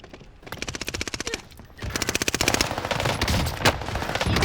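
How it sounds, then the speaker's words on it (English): Rapid automatic gunfire in the Warzone Pacific video game, two loud bursts of fast, evenly spaced shots separated by a brief pause, the second burst denser and longer, with a sharp single report near the end. "Taking shots!"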